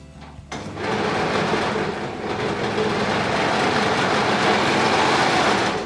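A Singer S14-78 overlock sewing machine from Lidl runs steadily through a thick seam, giving a continuous loud, close whir after a brief start.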